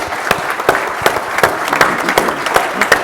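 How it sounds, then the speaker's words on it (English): Audience clapping for four panelists at a Tombstone Gold Belt breakfast event, a moderate room-sized round of applause with distinct individual claps standing out, no talk over it. "So once again, hand of applause for the 4 panelists"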